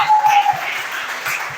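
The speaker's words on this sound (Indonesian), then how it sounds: "tepuk tangan dulu untuk Mbak Aresya" An audience at a digital journalism talk breaks into brief applause, a dense patter of clapping hands with a short tonal squeal at the start that fades toward the end.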